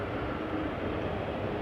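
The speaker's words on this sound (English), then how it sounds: "there's the helicopter" A police helicopter lifts off at Schiphol airport in Amsterdam, a steady low rumbling drone heard from a distance with no talk over it.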